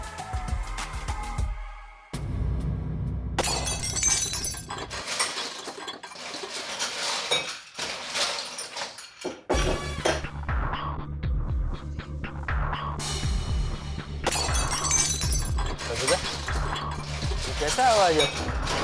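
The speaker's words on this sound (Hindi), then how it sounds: "किचन से बर्तन गिरने की आवाज आ रही है।" Metal kitchen utensils clatter and clink in a kitchen, a dense run of clanging pots and cutlery over a steady low throbbing background, with voices faintly underneath.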